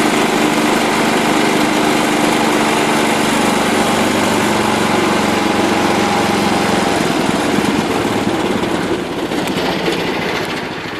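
John Deere 210 lawn tractor with a Kohler engine running continuously at a steady, loud drone near the listener, a buzzing small-engine hum with no breaks throughout.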